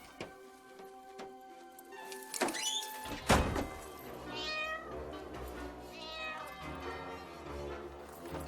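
A cat meows a few times, short rising cries in the middle and later, over a room with a sharp knock or clatter and some background tones.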